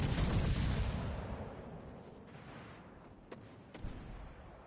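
Warship gunfire in the naval game World of Warships: Legends, a heavy booming salvo that rumbles and fades, then two smaller sharp reports a moment later.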